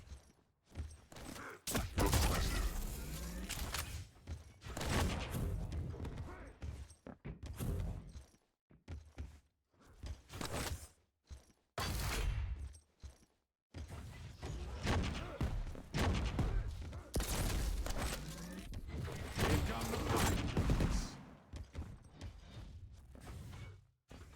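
Quake Champions grenades are spammed in a duel, with repeated loud bursts and thuds coming in clustered volleys, separated by short silent gaps.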